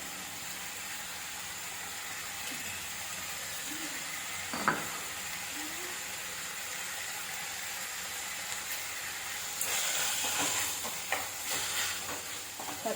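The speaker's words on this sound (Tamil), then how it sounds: "ஒரு 2 தக்காளி போட்டு கூட நல்லா வதக்கிக்கலாம் நம்ம." Tomatoes sautéing with salt in a pan for a cauliflower and peas kurma give off a steady soft sizzle and hiss, with occasional stirring scrapes and a brighter burst of crackling near the end.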